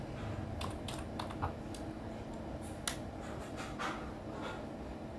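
Quiet computer keyboard typing of the command nslookup, a loose run of light, irregular key clicks over a low background hum with no voices.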